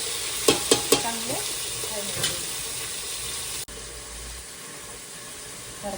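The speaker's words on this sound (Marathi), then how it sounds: "जास्त कापले 6 कांदे टाकले त्याच्यात" Onions frying in a pan for chicken biryani, a steady close sizzle broken by a few sharp clinks early on and a sudden drop in level partway through, with no talking.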